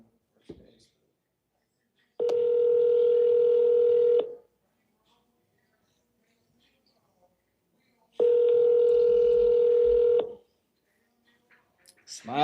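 A telephone plays two long, steady tones, each lasting about two seconds and separated by several seconds of near silence. A little faint movement can be heard between them, and a voice comes in at the end.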